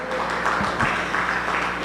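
A church congregation applauds during a Sunday sermon, a short burst of crowd clapping that fills the room evenly and stays fairly loud throughout.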